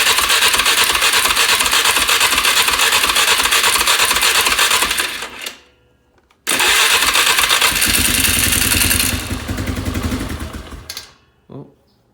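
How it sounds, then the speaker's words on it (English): A 2004 Polaris Sportsman 400 ATV with a bogging carburetor is cranked in two loud, close bursts, the second starting after a short silence and then fading out. "This might take a few cranks."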